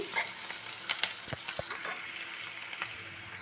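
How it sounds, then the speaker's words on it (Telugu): Onions fry in hot oil for a chicken and ridge gourd curry, with a soft steady sizzle. Brief clinks and scrapes of stirring in the pan break through it now and then. "ఆయిల్ బాగా హీట్ అయ్యాక ఆనియన్స్ వేసేసుకోవాలి ఆనియన్ మంచి గోల్డెన్ బ్రౌన్ కలర్ వచ్చే వరకు ఫ్రై చేసేసుకోవాలండి"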